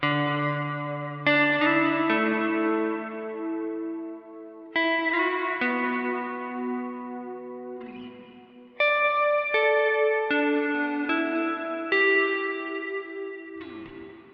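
Clean electric guitar chords on the neck pickup ring out through a long-decay reverb pedal, each strum trailing into a long, washy decay that lingers before the next.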